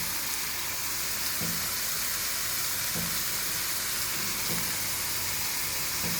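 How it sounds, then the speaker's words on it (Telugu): Eggplant pieces fry in a pan with a steady, close hiss and sizzle, broken by faint stirring clicks, for a dish seasoned with ginger-garlic paste. "ఇప్పుడు కొంచెం ఇలాగా వేపుకోవాలి"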